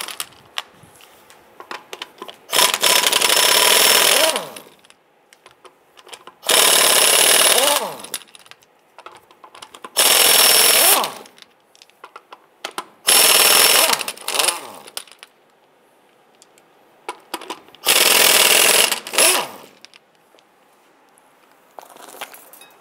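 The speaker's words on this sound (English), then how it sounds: "Using your 19 millimeter socket, go ahead and loosen and remove the nuts." An impact wrench loosens and removes the wheel nuts on a 1995–2001 Ford Explorer with a 19 mm socket, giving five loud, harsh whirring bursts of about two seconds each, separated by pauses with small clinks and handling noises, and no talking.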